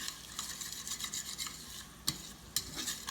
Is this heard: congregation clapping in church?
no